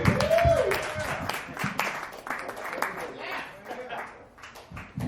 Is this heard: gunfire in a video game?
no